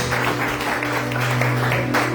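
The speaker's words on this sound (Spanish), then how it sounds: "Alguien tiene que darle un aplauso al Señor en esta noche" A church congregation applauds during an evening service, a steady wash of many hands clapping that runs without a break, with a low sustained hum from instruments or an amplifier underneath.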